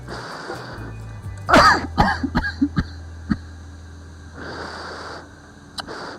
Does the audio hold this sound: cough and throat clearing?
yes